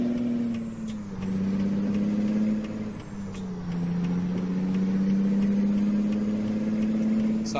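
Heavy truck with a 455 horsepower engine and multi-speed transmission in American Truck Simulator, a loud continuous diesel drone whose pitch dips and climbs with gear changes, a brief air-brake hiss near the start.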